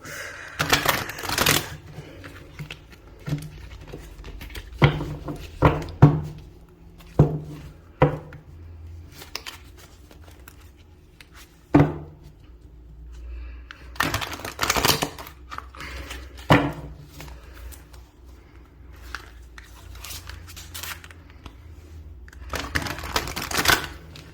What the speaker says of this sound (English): Just going to give it a shuffle before.